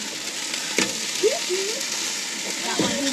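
Steady sizzling of burgers frying in a portable gas frying pan at a campsite, a continuous crackling hiss up close, with a few brief knocks and faint voices underneath.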